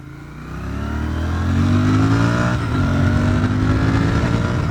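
A Royal Enfield Interceptor 650 motorcycle accelerates close by, the engine note climbing steadily in pitch and loudness through the gears, with a brief dip before rising again and no talk over it.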